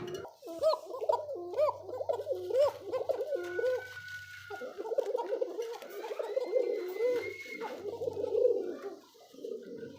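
Chocolate racer pigeons coo repeatedly up close, rolling throaty calls in steady bouts with brief pauses, against a quiet background.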